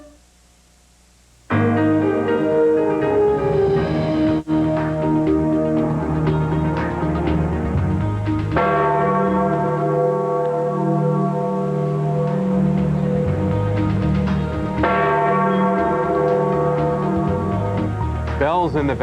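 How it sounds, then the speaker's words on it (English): Church bells at the Vatican toll on the night of Pope John Paul II's death: a sequence of loud, ringing strikes with long, overlapping decays fills the whole span after a brief quiet opening. "Bells in the Vatican toll signifying the passing of Pope John Paul II."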